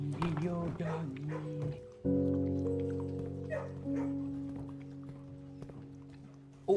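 A dog barks and whimpers in a kennel in the Blue Prince video game, short yips early on followed by sustained tonal game music, with a person talking over it.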